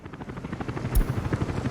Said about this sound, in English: It is a passenger helicopter, but it's not a line.